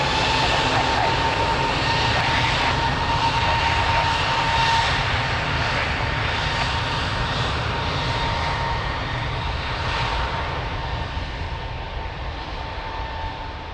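A jet airliner takes off from Lisbon Airport, its engines a loud, steady broadband roar that holds for the whole stretch and fades only slightly at the end.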